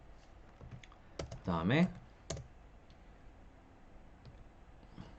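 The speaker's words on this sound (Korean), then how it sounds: "자, 윈도우즈 버튼을 누르고" A computer keyboard key is pressed on a Windows PC, giving a few short, close clicks under a person talking.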